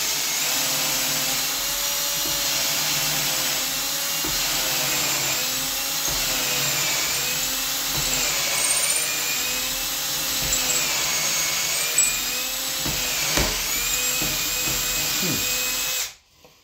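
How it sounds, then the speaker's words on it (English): Power drill boring holes through white oak axe handle stock, a steady loud whine with wavering pitch running continuously for about sixteen seconds, close up, then cutting off abruptly. "Let's drill some holes."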